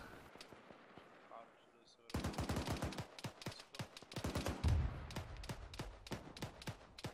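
Gunfire in the military video game ArmA 3 starts after a quieter opening, then rattles in rapid, dense bursts of shots for the rest of the clip.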